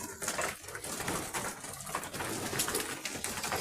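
Racing pigeons coo softly while feeding, their low murmuring mixed with pecking and rustling in a close, busy loft.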